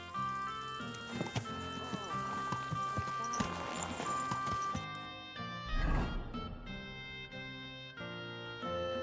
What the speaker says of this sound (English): Let's first get on a horse.